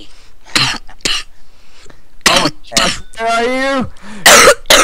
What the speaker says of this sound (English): I'm gonna have a coughing fit.